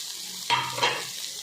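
A boiled potato drops into leftover chicken masala curry frying in a pan. A soft plop and stir cut into a quiet, continuous sizzle that settles back afterward.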